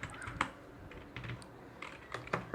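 Keys clatter in irregular short bursts as C++ code is typed on a computer keyboard, close and fairly quiet with small pauses between strokes.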